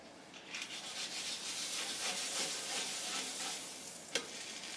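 A tortilla sizzles and fries in butter in a hot pan, a steady crackling hiss that runs throughout with a brief sharper pop near the end.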